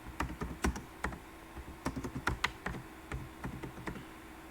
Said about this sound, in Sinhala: මගේ channel එකේ නම මම මෙතන type කරගන්නවා.